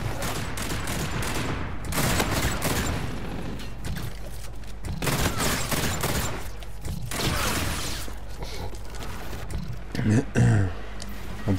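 Repeated bursts from the R-VN burst-fire weapon in Infinite Warfare, loud and close, with short clustered shots and dense game noise throughout; someone talks briefly near the end.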